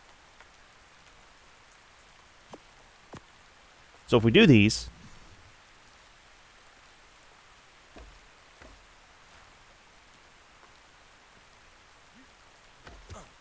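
Steady rain falling across the world of the video game ARK: Astraeos Ascended, a soft continuous hiss running underneath, broken by a brief loud burst and a few faint clicks, with a voice speaking briefly.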